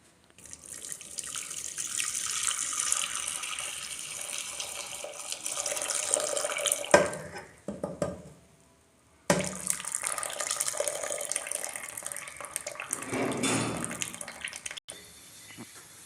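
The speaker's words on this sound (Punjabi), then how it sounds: "ਇਹਨਾਂ ਨੂੰ ਨਤਾਰ ਲਈਏ ਇਹਨਾਂ ਵਿੱਚੋਂ ਪਾਣੀ ਕੱਢ ਕੇ ਸੇਮੀਆਂ ਅਲੱਗ ਕਰ ਲਈਏ" Water from a pot of boiled vermicelli is poured off in a kitchen. A steady hiss of draining liquid runs for several seconds, stops briefly, then pours again until nearly the end.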